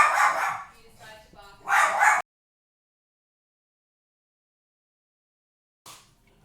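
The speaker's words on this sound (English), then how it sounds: "My dog's just going off at the TV." A pet dog barks loudly and close at a television, a few rapid excited barks in two clusters, then silence, then one short bark at the end.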